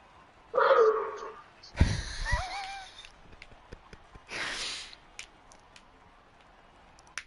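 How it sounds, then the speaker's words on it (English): An excited dog barks in three short, separate bursts, fairly close, with quiet room noise and a few small clicks between them. "Sounds like you've got the dog excited as well."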